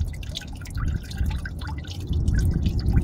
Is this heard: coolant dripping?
yes